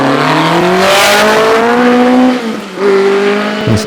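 A Lotus Ford 35 Formula 2 racing car with an aluminium monocoque climbs the Shelsley Walsh hillclimb, its engine loud and close, revving up through rising gear pulls with a brief lift before surging again.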